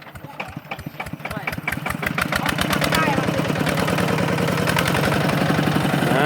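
A tractor engine idles nearby in a rural setting while grass is planted. It gives a steady, rapid chugging rhythm that grows louder and denser. People talk under the engine.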